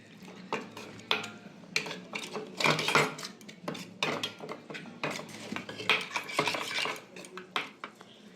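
Ground spice powders such as turmeric and chilli are mixed with a little water: quick, uneven clinks and scrapes of a spoon against a small metal bowl, close and clear, without talking.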